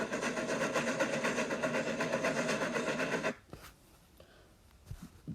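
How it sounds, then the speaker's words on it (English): A freight train rumbles and clatters steadily along the tracks for about three seconds, then cuts off abruptly, leaving near silence with a few faint knocks. "pulling his freight train"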